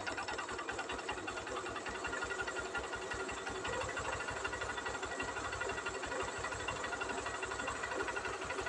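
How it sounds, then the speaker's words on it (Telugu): A motorbike engine idles close by as its accelerator adjustment screw is turned to raise the idle speed, giving a steady, fast, even chugging thrum that stays quiet and continuous throughout. "లెఫ్ట్ సైడ్కి తిప్పుతున్నాను కనుక ఇంజిన్ స్పీడ్ అనేది పెరిగింది."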